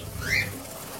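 A single brief whistling call from a caged cockatiel or lovebird in a colony aviary rises over steady background hiss, moderately close and not very loud.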